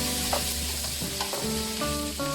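Minced garlic and ginger frying in a pan for a seafood fried rice, a steady close sizzle with stirring scrapes and clinks, no voices.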